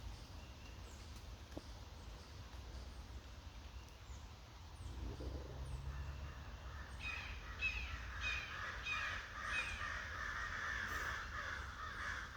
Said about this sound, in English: Thank you, crows.